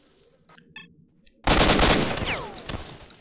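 Enemy gunfire erupts in the video game STALKER. After a few faint clicks, a sudden loud burst of rapid automatic shots begins, then fades into ringing echoes, with no talk.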